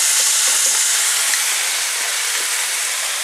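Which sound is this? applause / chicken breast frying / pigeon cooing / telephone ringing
chicken breast frying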